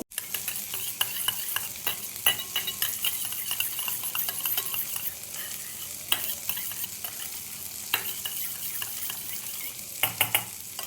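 A spoon stirs tomato sauce and soy sauce in a pan for chilli prawns, with repeated scraping clinks over a continuous close sizzle and no speech.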